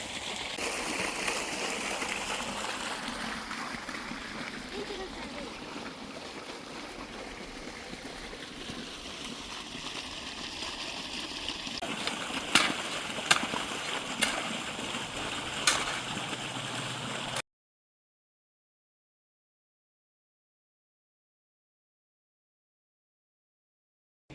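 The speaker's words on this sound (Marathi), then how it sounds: "शेवटी त्याला पाणी एक वाफा चालू केलेला आहे आणि एवढेच थोडेसे भरायचे आहे" Irrigation water runs steadily into a bed of an onion field at dusk, a continuous close trickling gurgle with a few sharper splashes later, then silence.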